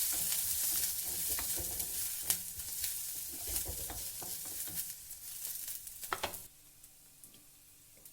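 Stirring and sautéing curry ingredients in a clay pot, steady close sizzling and frying with scraping spoon strokes over the pan, growing quieter toward the end, no talking.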